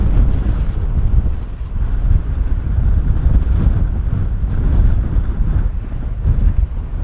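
Strong 35-knot wind buffeting a microphone at Bristol Airport, a dense, steady roaring rumble that fills the whole stretch with constant gusty turbulence and no voices.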